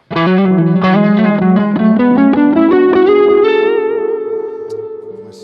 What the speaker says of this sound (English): I can add some delay to that.